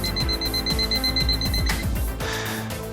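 A close-up alarm clock beeps in a rapid repeating pattern, its tone quickening partway through, while other sound runs beneath it.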